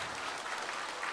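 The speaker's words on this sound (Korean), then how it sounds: "두 분께 박수 한번 주세요." An audience in a Korean singing class claps for two performers, a dense, steady burst of applause filling the room.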